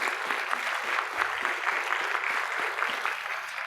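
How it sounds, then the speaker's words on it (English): An audience at a community college presidential inauguration gives a sustained round of applause, a dense, even wash of clapping from a crowd. "Could we give him a round of applause?"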